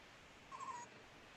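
One short, soft owl hoot, faint against a quiet background hiss.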